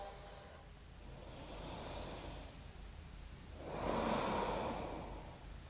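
Slow, deep breathing during a yoga stretch, two long airy breaths a couple of seconds apart, soft and close with no talk.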